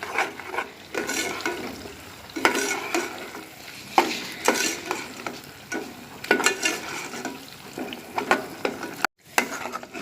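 Cream cooking down into desi ghee in a pan sizzles and crackles while a spoon stirs and scrapes in repeated bursts, close and fairly loud, with a short silent break near the end.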